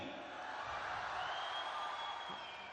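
Audience applause at a Hindi comedy poetry show, heard as steady, moderately distant clapping from a crowd that swells slightly and then holds, with no talk over it.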